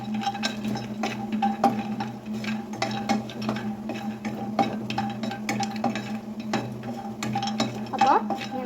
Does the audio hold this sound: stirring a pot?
yes